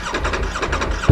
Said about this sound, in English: All right, let me warm this thing up.